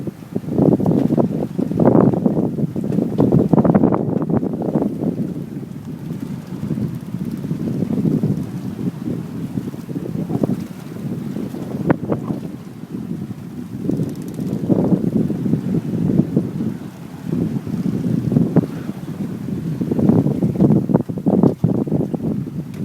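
A sailboat glides under sail with its engine stopped, giving a steady rush of wind and water with heavy wind buffeting on the microphone, continuous throughout and with no speech.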